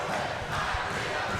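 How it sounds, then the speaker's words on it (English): A high school student cheering section at a basketball game, Hershey at Cedar Cliff, roars in a brief, continuous crowd din of shouting and chanting voices, loud and unbroken. "There you see the Golden Corral, one of the best cheering sessions anywhere."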